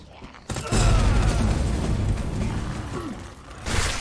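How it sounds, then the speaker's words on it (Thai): A grenade goes off in Resident Evil 2 Remake with a sudden loud boom. The blast is followed by a few seconds of rumbling debris and a second, smaller swell near the end. "ระเบิด"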